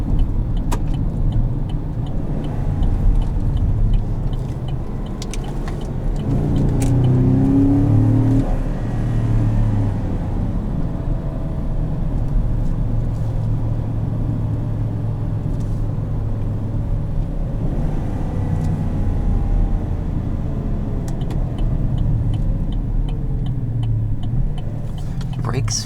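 A 2017 Chevrolet Silverado 2500HD pickup rolls along a back road, its steady low engine and road rumble droning continuously from inside the cab, with a driver talking over it throughout.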